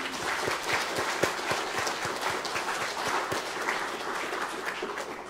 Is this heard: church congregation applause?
yes